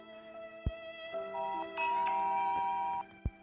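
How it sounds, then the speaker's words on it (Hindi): A two-tone electronic doorbell chime plays a short melody of sustained ringing notes, with faint thumps at the start and end. "दरवाजे पे कौन आया है, घंटी बजा रहा है।"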